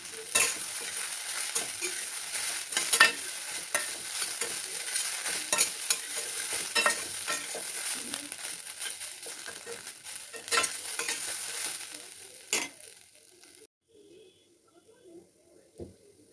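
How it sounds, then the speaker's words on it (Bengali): Fried soybean chunks with sauce are stirred in a pan, a steady close sizzle with scraping spoon strokes for about twelve seconds before the frying fades to near quiet. "সস দিয়ে ভালো করে নেড়ে চেড়ে নেব।"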